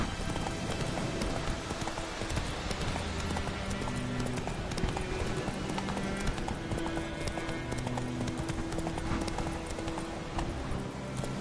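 Hooves of a galloping horse in The Witcher 3 video game pound out a steady, rapid clip-clop rhythm throughout, loud and close, over a bed of in-game ambience.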